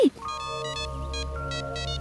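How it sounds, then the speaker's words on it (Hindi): A phone ringtone for an incoming call plays a steady, repeating electronic melody in a home setting, with chiming tones sounding again and again at an even, moderately loud level. "जरा फोन आ रहा है"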